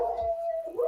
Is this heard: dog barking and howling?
yes